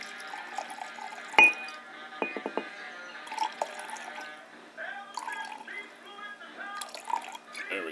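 Grain alcohol is poured into a glass beaker to measure 100 millilitres, heard as faint trickling and dripping with a few sharp glass clinks, in a quiet room.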